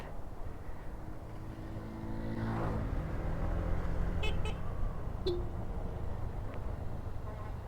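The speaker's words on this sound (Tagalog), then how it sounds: "Yung pala yung bubusina truck." A truck's horn sounds in short toots on a road near the Monte Maria shrine, heard from inside a moving vehicle over a steady rumbling engine and road noise.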